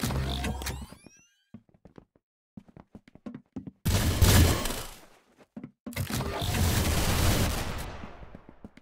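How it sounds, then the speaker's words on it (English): Gunfire in the Roblox game Arsenal: bursts of rapid shots crackle close and loud, separated by stretches of single sharp pops and clicks, with no voices heard. "I hope you like your guns extra recoily!"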